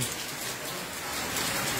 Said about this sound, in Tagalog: hindi pa rin tumitigil yung ulan dito sa Pangasinan